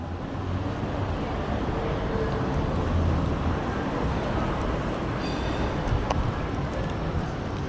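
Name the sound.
tram approaching on a rainy street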